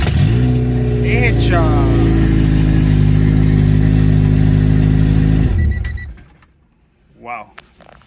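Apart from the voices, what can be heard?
Honda Civic EG hatch engine starting for first time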